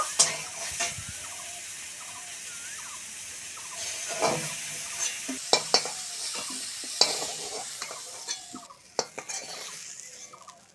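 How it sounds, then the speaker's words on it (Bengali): Cauliflower pieces fry in hot oil with a soft, continuous sizzle while they are stirred and lifted out, punctuated by sharp clinks of a utensil against the pan. "ফুলকপিগুলো খুব সুন্দর করে ভেজে নিয়েছি তুলে নেব"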